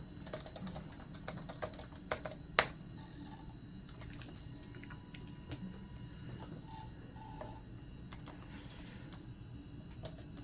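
Typing on the keyboard of a Toshiba Satellite 315CDS laptop: scattered, quiet key clicks with one sharper tap, over a steady low hum in a room.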